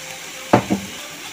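Sugar is stirred into mango pickle cooking in a pan, giving two short scraping clinks of a spoon against the pan over a faint, low sizzle.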